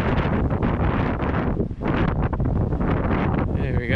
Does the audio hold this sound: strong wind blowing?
yes